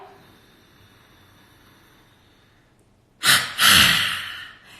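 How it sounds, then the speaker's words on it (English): A person demonstrates a breathing exercise: a soft inhale through the nose with the mouth closed, then after a pause two sharp, loud forced exhalations in quick succession, close up, with no talking. "An inhale through the nose with the mouth closed"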